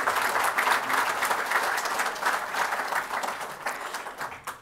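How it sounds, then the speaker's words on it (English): Audience applause at an Illinois PGA awards ceremony, a steady crowd of clapping hands that holds and then thins toward the end. "Let's give them a round of applause."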